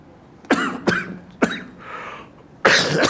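Several short, sharp coughs from an elderly man lecturing in a religious class, coming in quick separate bursts with a final louder cough, close to the microphone and with no talk over them.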